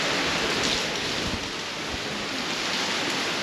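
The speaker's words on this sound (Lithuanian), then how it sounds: "tai šiandien labai lyja. Labai lyja. Ir didžiulis vėjas." Heavy rain with strong wind during the rainy season on Koh Samui, heard as a dense, steady roar of falling water and gusts that stays loud and unbroken throughout, with no voices.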